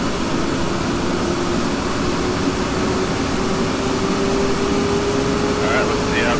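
Steady jet engine roar from an aircraft in the DCS World flight simulator game, a constant loud broadband rumble with a thin high whine holding throughout, no breaks or changes in level.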